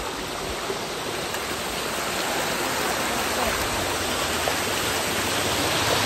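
Steady rain near Jawhar Ghat waterfall, a dense unbroken hiss of falling water with a constant rushing roar, loud and close throughout with no break or voice.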